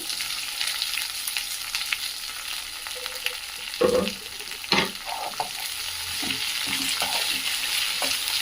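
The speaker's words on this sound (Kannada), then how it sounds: "ಸಣ್ಣಕ್ಕೆ ಕಟ್ ಮಾಡಿಟ್ಟಂತಹ ಬೆಂಡೆಕಾಯಿಯನ್ನು ಹಾಕ್ಕೊಳ್ಳಿ" Chopped okra tipped into hot oil tempered with mustard seeds, urad dal and curry leaves, sizzling steadily while a spoon scrapes and stirs the pan with a few louder clanks, no voices.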